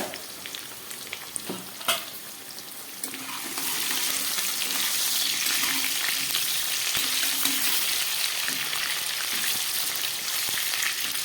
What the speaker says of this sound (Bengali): গ্যাস কমিয়ে আলুগুলোকে আমি খুব ভালোভাবে ভেজে নিচ্ছি